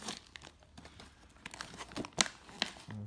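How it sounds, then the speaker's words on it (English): Newspaper crumpled into balls by hand for stuffing a homemade Mjolnir hammer, a close run of crinkling and tearing bursts with sharper crunches near the end, and no talking. "Crumple up those newspaper bits."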